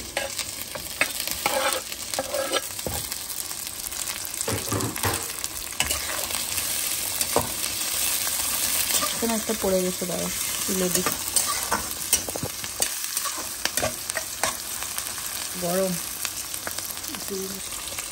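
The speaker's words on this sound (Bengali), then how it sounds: "পেঁয়াজগুলোকে গোল্ডেন ব্রাউন করে ভেজে নেবে।" Golden-browned onions and green chillies fry in a pan, with a steady close sizzle broken by sharp spatula scrapes and stirring clatter, while someone speaks briefly partway through.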